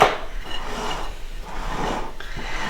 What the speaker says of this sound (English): Just scrape around the edges and incorporate the flour.